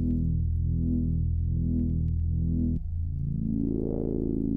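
Procedurally generated melody tones from the video game Songbringer: a sustained synth note that cuts off abruptly and gives way to a second held tone rising in brightness, loud and clear with no talk.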